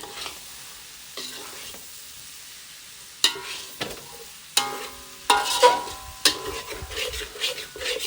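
Instant Maggi noodles stir-fried in a pan for Maggi goreng: a low background sizzle broken by repeated scraping and clattering stirring strokes, close up, getting busier toward the end.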